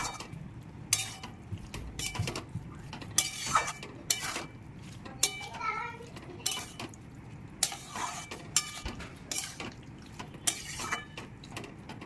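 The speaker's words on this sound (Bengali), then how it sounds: "এবার চিকেনটার সাথে খুব ভালোভাবে মিশিয়ে নেব।" Chilli chicken being stirred in a pan with chilli and tomato sauce, a spoon scraping and clinking against the metal in an irregular run of taps and scrapes, close and moderately loud with no talk.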